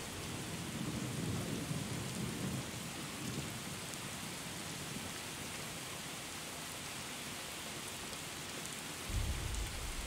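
Thunderstorm from the True Storms weather mod in a video game: steady hissing rain with low rolling thunder near the start and a deeper rumble at the end, alone with no talk.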